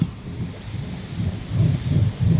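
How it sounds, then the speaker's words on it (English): Gusty wind rumbles and thumps against the microphone in uneven surges on a shed roof, with no voices. "So it's pretty windy"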